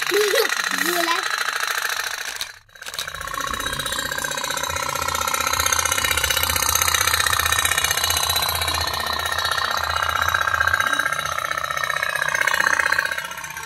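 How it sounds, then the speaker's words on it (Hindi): A toy pop-pop steam boat runs with a loud, steady, rapid putt-putting that continues almost without a break, with a short dip near the start and a voice heard briefly at the beginning. "आणि बोटीचा आवाज बघा, ढान ढान ढान ढान, बुलेट सारखी चालते।"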